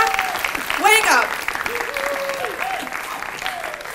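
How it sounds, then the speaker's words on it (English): Audience applause at a Danish entrepreneurship awards event, steady clapping throughout with a brief whoop-like cheer near the start and voices talking over it. "please give a round of applause to Tommy Ahlers"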